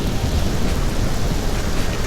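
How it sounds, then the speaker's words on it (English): Heavy rain pounding steadily during a thunderstorm while out fishing in the Midwest, a loud, dense, continuous roar with deep rumbling underneath and no voices. "This turned into some serious rain."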